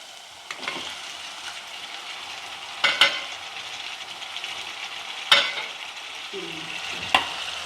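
Tomatoes sizzle in hot oil with sautéed onion and garlic, a soft steady frying hiss broken by several sharp scrapes and clinks of a spoon stirring against the pan, with no voices.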